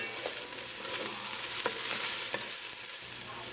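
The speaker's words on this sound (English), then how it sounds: "we're going to allow this to saute until it's nice and tender" Chopped onion and fine thyme sautéing in a pot for Guyanese pepperpot, a steady close sizzle with a few soft stirring scrapes, no voices.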